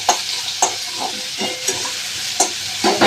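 Food fries in a pan with a steady, fairly loud sizzle while turmeric is stirred in, with a spoon knocking and scraping against the pan every second or so.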